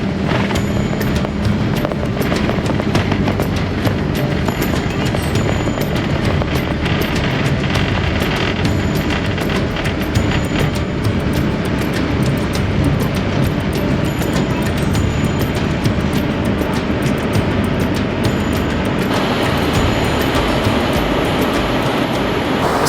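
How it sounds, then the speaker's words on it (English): Inside a Star Air airliner taxiing for departure, a loud, steady cabin roar of engines and rolling rumble continues throughout with no clear breaks. "So cabin secure, and we are taxiing for our departure"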